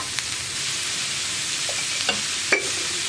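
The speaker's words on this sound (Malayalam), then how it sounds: "ഒന്ന് സോഫ്റ്റായി വരുന്നത് വരെ ഇളക്കി കൊടുക്കുക." Onions frying in a pan with a constant close sizzle, a few soft scrapes of stirring rising over it.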